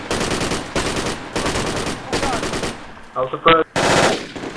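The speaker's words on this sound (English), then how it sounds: "PKM shooting at us." PKM machine gun fire in the Project Reality game, loud sustained bursts repeating in a steady rhythm, then a short sharper clatter of shots before a final burst, with a voice briefly speaking.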